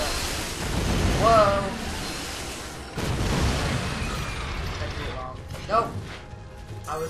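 Booming explosions from rockets and fireworks in the Skylanders video game roar as dense, continuous blasts with crashing debris, loud and wide, with short game voice fragments in between.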